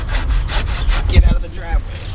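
A hand saw cutting through storm-fallen wood blocking a driveway, several quick rhythmic back-and-forth strokes, close and loud, then a pause.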